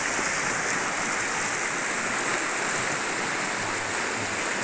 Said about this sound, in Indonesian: Ini Sungai Cidikitnya nih. Ini bagian hulu dari Sungai Cidikit